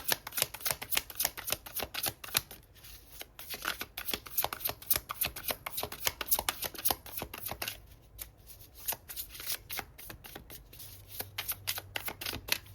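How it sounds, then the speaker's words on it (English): Tarot cards are riffled and shuffled in quick repeated bursts, crisp close-up flicks and slaps forming a fast uneven rhythm with brief pauses, quiet and without any talking. "this entire reading is me shuffling"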